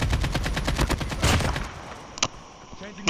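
Rapid automatic gunfire in a Call of Duty Mobile battle royale match, a dense burst of loud repeated shots for about two seconds, followed by a couple of isolated sharper reports and game effects.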